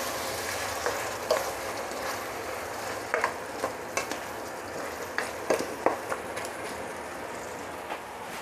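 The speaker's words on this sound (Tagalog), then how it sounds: "Hahalo natin, hahaluin natin." A kilo of chicken pieces is stirred as it fries in a pot, with a soft continuous sizzle under scattered sharp scrapes and knocks of the utensil against the pan, and no talking.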